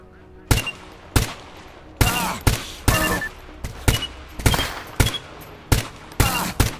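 An AK rifle fires in a video game in about a dozen sharp, loud single shots spaced roughly half a second apart, each cracking close and decaying briefly, with no voices in between.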